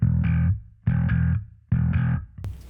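A distorted bass guitar with the attack switch boosted for brighter treble into the drive, recorded for bass tone, plays three short gritty notes, each cut off after about half a second, then a brief noisy squeak at the end.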